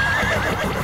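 A horse whinnies loudly and close, one sustained wavering neigh filling the moment.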